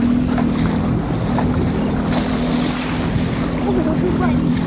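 Jet ski engine idling out on open water, a steady low drone with a constant hum beneath continuous wind and water noise, close to the microphone throughout.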